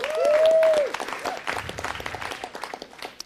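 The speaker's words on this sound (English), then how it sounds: "Give her a round of applause." Applause from an audience at a city council meeting for a second-team All-American award, scattered claps building into a moderate round beneath a brief tonal sound at the start, thinning into individual claps.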